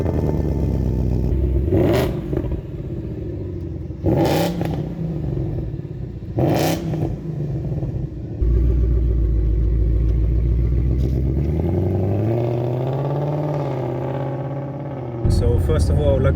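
A Ford Mustang's engine revs in sharp repeated bursts during a ride, then settles into a rising, droning acceleration, with a voice talking over part of it.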